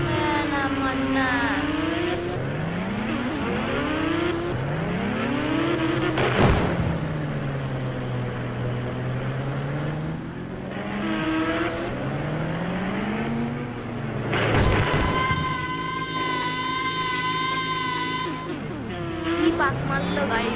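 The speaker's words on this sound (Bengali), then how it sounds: "পাক মারলো গাড়িটা।" A car driving and turning, its engine note sweeping steadily up and down in pitch, loud and close throughout with a brief harsher burst partway through.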